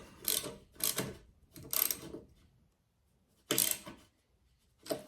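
A 13mm socket tightens a bolt on a homemade magnetic-base camera mount, with a few separate close ratcheting clicks coming in short bursts broken by quiet pauses.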